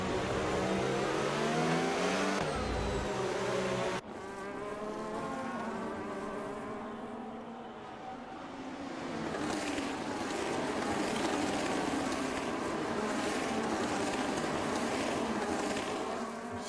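Several racing cars in an F1 video game race in Brazil, with engines whining at high revs in a loud, steady, buzzing drone that rises and falls as they pass, and no talking.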